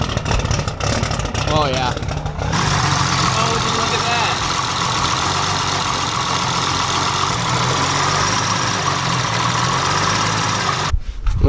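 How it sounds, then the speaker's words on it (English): A self-built RB26/30 engine in a 240SX S14 idles loudly after a cold start, a steady rumbling drone close by throughout, with a person briefly speaking over it. "It's a nice cold start right there."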